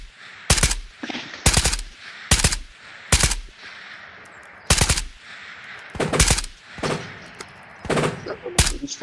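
Gunfire in the VR shooter video game Ghosts of Tabor: loud, close bursts of automatic fire and single shots at irregular intervals, roughly ten separate volleys with short quiet gaps between them.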